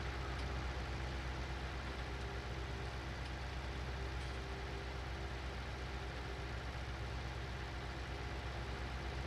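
A tractor engine in Farming Simulator 19 runs at a steady, low drone heard from first person, continuous and even with no talking.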